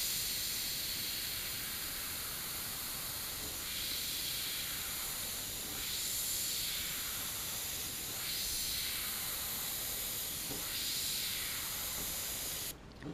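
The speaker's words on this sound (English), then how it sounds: "start up close, start shooting paint, and as you move away, that dot is gonna get bigger." An airbrush sprays paint onto fishing lures in a steady close hiss, swelling in a few gentle pulses before cutting off abruptly at the end, with no voices.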